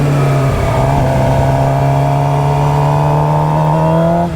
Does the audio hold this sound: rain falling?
no